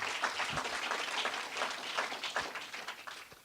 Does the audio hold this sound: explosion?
no